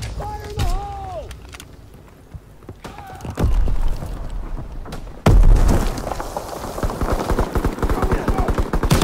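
In the Call of Duty WWII game, a heavy explosion booms out, followed by rapid, dense gunfire crackling in bursts, with shouted voices over the battle noise.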